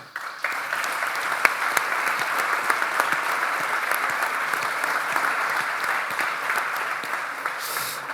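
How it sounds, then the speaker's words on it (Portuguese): Audience at the 50th APAVT travel congress in Macau gives sustained applause, a dense even roar of clapping hands starting abruptly and continuing strongly to the end. "merece um aplauso aqui da plateia"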